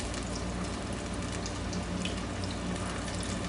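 Water runs steadily from a tap while hands are washed in a home kitchen during cucumber frying, a dense constant rushing splash up close with no speech.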